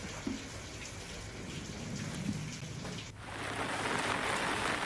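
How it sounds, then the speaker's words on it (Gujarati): Light monsoon drizzle falls over a district in Amreli in a soft, even patter, faint and steady, with a small shift in texture partway through. "જિલ્લામાં વહેલી સવારથી ઝરમર વરસાદ રહ્યો"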